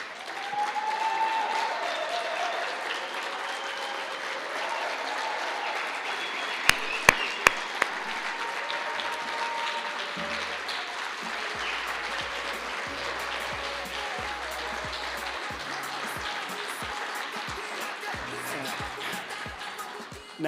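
Loud, sustained applause fills a premiere venue, many hands clapping steadily for around twenty seconds, with a few sharp knocks and low thumps scattered through the crowd noise.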